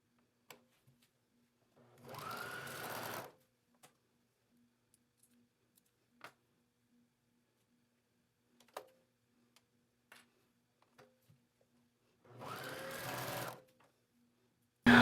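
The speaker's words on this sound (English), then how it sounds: "You can use a stretch stitch or a zigzag or a serger. I'll be using a serger" A serger overlocks the shoulder seams of a knit tank dress in two short runs of a few seconds each. Both runs are steady, close whirring hums, separated by quiet stretches with small clicks and handling taps.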